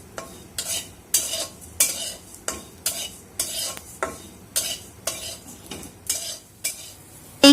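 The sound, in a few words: dry-roasting five-spice, cumin and fennel seeds in a pan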